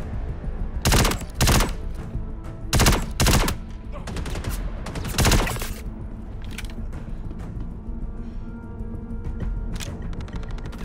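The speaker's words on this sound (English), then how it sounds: "Someone's just shooting?" Bursts of gunfire in a video game with a stuttering frame rate: several loud, sharp volleys in the first half, followed by fainter, scattered shots over a steady background hum.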